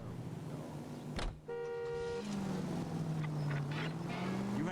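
A car drives in the video game L.A. Noire: a steady engine hum, a short mechanical whine partway through, then a rising engine tone as the car pulls away, with no talk over it.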